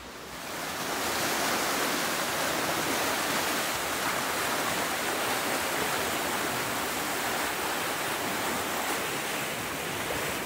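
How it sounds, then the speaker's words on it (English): Water rushing steadily through an open ground paddle into a canal lock on the Grand Union Canal, a loud, continuous roar that holds unbroken near and alone. "I've got the ground paddle open there, which is keeping water coming into this lock"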